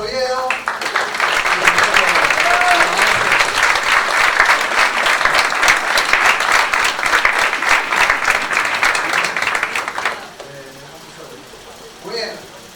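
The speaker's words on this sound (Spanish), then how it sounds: "Le damos un aplauso a Gonzalo Oviedo." An audience at a school poetry and theatre event applauds Gonzalo Oviedo, loud sustained clapping for about ten seconds before fading into a quiet room with a faint voice.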